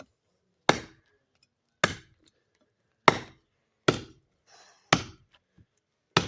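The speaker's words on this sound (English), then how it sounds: "having a thinner axe handle, getting some bad strikes here" An axe with a thin handle strikes wood six times at a steady pace, each a sharp, close chop that decays quickly into silence, with a faint clink between two of the blows.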